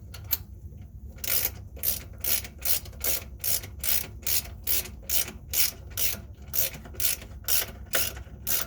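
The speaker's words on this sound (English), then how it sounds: "I'm going to go ahead and grab my socket wrench now." A socket wrench ratchets a bolt on a Whirlpool washing machine, making a rapid series of crisp clicking bursts in a steady back-and-forth rhythm, close and clear, with no talking.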